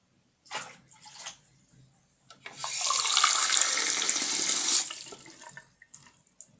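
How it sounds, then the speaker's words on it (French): Hot water gushing steadily from a tap while horse brushes are washed, a loud continuous splash for about two and a half seconds, with brief quieter water sounds before and after. "faut mettre de l'eau chaude quoi"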